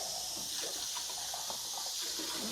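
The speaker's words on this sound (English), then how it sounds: "We're gonna rinse this out." Tap water runs steadily into a kitchen sink to rinse canned red beans and black beans, a continuous close hiss of flow and splashing with no voices.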